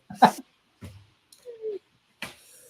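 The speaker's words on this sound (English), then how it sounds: "He's the laziest dog ever." A lazy dog gives a few short whimpers and soft yips spread over a couple of seconds, close and fairly loud, with quiet gaps between them.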